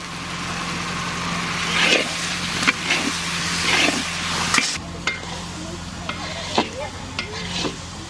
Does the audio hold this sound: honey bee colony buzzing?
no